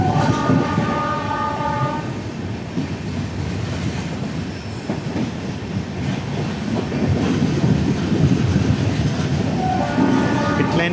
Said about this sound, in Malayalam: ബാൻഡ്ര മഡ്ഗാവ് ബാൻഡ്ര എക്സ്പ്രസ്